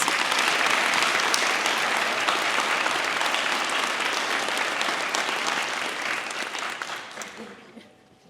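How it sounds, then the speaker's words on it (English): A room full of people at an awards night claps steadily and loudly, the applause holding for several seconds before tapering off to quiet. "Please give her a round of applause."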